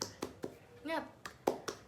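Children in a classroom doing the tepuk semangat clapping chant, several sharp rhythmic hand claps in a pattern with a voice briefly calling out between them, fairly faint.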